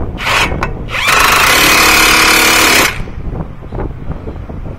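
An impact gun hammers a CV axle nut tight on a 2013 Nissan Altima, a loud rattling burst of about two seconds after a couple of short blips, then a quieter tail of workshop noise.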